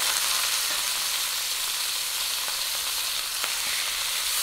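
Pork leg sizzles steadily in hot oil in a pan, browning for humba, a continuous crackling hiss with a few sharper pops.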